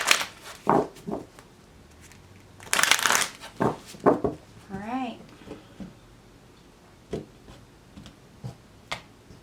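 Tarot cards being shuffled in a reading, giving a few quick riffling bursts and soft card taps spread over the stretch, close by, with a short tonal whistle-like sound in the middle and quiet pauses between.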